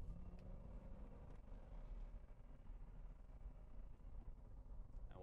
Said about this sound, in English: Let's take this single exhaust 190 horsepower of Fury up to highway speeds and see how she sounds.